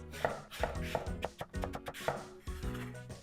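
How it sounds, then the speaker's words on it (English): A kitchen knife slices an eggplant into pieces on a cutting board, producing a quick series of distinct, close-up chopping knocks in an uneven rhythm, soft and alone without talk. "And for the eggplant, I probably just need a third of this. And then cut this into slices."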